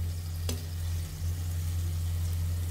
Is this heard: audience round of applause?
no